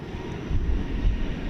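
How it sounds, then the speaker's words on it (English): Cathay Pacific A350-1000 airliner at DFW Airport at night, a steady low jet-engine rumble with broadband roar that swells slightly midway, heard at moderate distance with no talking. "There, the tail of the Cathay Pacific A350-1000."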